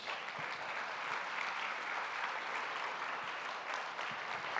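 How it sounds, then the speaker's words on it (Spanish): A church congregation applauds during a Sunday service, a continuous even wash of clapping from a large crowd that holds at a steady level throughout, with no voice over it. "Colóquese en pie y dele un fuerte aplauso al Señor."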